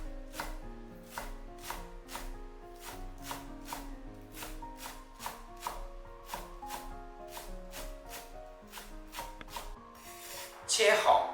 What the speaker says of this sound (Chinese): 全部给它切成葱花。